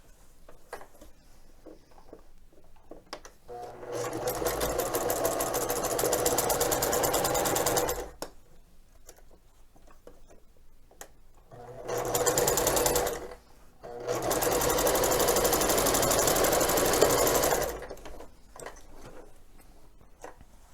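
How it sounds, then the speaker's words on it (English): A sewing machine stitches a seam on a fabric basket in bursts: a long run of rapid whirring, a pause, then two more runs, loud and close with no talk. "we're going to run that row of stitches right across the same way as we just did"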